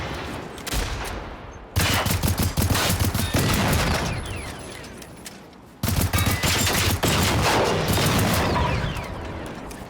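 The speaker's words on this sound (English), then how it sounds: "I hear more shooting" Dense volleys of gunfire ring out at an enemy base in the video game Generation Zero, two long bursts of rapid, overlapping shots with a short lull between them, loud and sustained.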